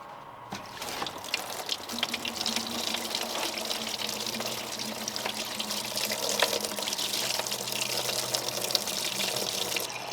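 Coolant drains from the engine pipes of an Audi 2.0 TFSI EA113 in a steady, continuous trickling and splashing stream, close by and without talk.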